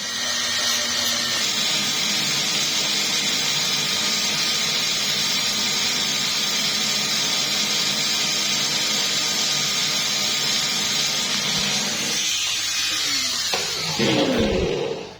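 A rotary tool grinds continuously while porting the transfer ports of a Satria two-stroke cylinder block. The loud, even whine holds steady for most of the clip, then cuts off with a brief clatter near the end.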